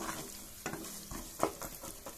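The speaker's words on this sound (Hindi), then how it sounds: "थोड़ा सा ये गोभी अच्छे तरह इसमें भून दूंगी" Cabbage is fried and stirred in a pan for a home-style potato, pea and carrot sabzi, with a faint, soft sizzle and a few quiet stirring scrapes over about two seconds.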